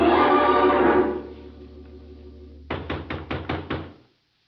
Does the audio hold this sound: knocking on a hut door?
yes